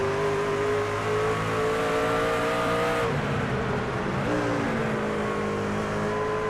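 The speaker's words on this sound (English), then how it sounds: "You hear him downshift and get ready to shift back up again" A race truck engine in the iRacing video game at Lucas Oil Raceway drones loud and steady, then drops pitch in a downshift partway through before climbing again, with no voices.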